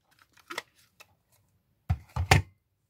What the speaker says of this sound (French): Vous coupez un petit rectangle dedans.